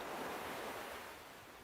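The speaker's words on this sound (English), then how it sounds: "a small wave is just flowing back into the sea" A small ocean wave washing up and drawing back on a beach in the evening, a steady broad rush that eases slightly toward the end, with some wind.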